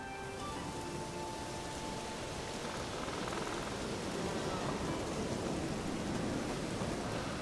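Steady rain in The Witcher 3, a continuous loud hiss of rainfall on surfaces that fills the whole stretch and swells slightly toward the end, with no talk over it.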